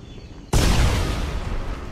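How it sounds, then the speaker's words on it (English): Blown-up barrels in the video game Marlow Briggs and the Mask of Death go off in a sudden, loud explosion that booms and then rumbles on with a sustained roar, heard alone. "It was an explosion."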